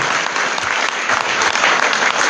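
A church congregation at Sunday Mass in Gujranwala applauds young blood donors with full, dense clapping that stays loud and steady throughout, with no speech on top.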